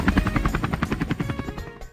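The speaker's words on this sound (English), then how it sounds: "Look, this is a helicopter." A helicopter's rotor thumps in a fast, steady rhythm, loud and close, fading slightly at the end.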